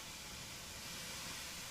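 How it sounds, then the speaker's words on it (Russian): Hot stones in a plastic-wrap outdoor sauna beside a log cabin hiss steadily with steam, a broad continuous wash of noise with faint crackle, fairly close and quiet, no talking. "Камни трещат."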